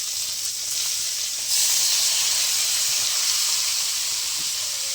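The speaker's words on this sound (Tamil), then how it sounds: "வெங்காயம், தக்காளி, பச்சை மிளகாய் வதக்கணும்." Onion, tomato and green chili sauté in a hot pan with a steady hissing sizzle that swells louder partway through, then holds close and continuous with no talk.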